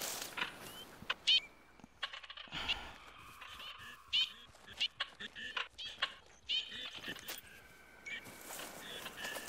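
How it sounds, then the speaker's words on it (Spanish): Waterfowl taken for ducks honk in scattered, fairly close calls outdoors in Franconia, with short bursts repeating irregularly among quiet gaps and faint rustling. "¿Son patos o qué?"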